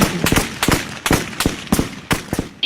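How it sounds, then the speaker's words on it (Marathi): Gunfire sound effect in a Ganesh festival tableau, a rapid series of sharp loud bangs in short bursts, echoing through a loudspeaker. "देवीने बलात्कारांना धाड धाड गोळ्या"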